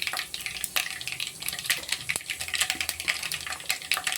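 Fenugreek seeds crackle and fry in hot oil as the tempering for a Tamil fish curry, a steady close sizzle with scattered sharp pops and occasional stirring clinks, no talk.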